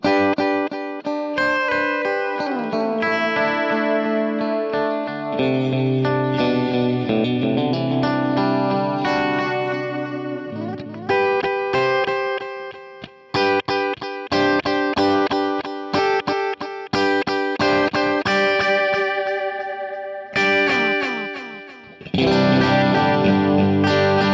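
Guitar played through a JHS Pink Panther effects pedal, heavily modulated with chorus and echo, strumming dense chords and picked lines continuously and loudly with short gaps, alone without talk.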